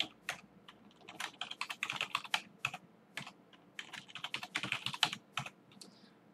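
Quick, light clicking of a computer keyboard as a new admin password is typed, a steady run of crisp keystrokes in two bursts with a short pause between, close and fairly quiet.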